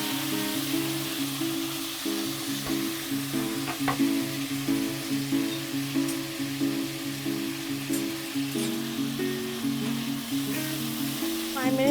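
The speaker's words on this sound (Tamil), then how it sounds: "இப்போ எண்ணெய் காஞ்சோடனே வந்துட்டு நம்ம அரிஞ்சு வச்சுருக்க வெங்காயம், தக்காளி, பூண்டு, பச்சை மிளகாவை சேர்த்து நல்லா கொஞ்சம் பச்சை வாசனை போகிற வரைக்கும் வதக்கி எடுத்துடலாம்." Onion, tomato, garlic and green chili sauté in hot oil with a close, steady sizzle. Soft stirring scrapes run through it the whole time.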